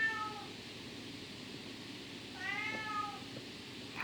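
A cat meows twice, first briefly at the start, then a longer, wavering meow partway through. Both calls are clear over a low, quiet room background.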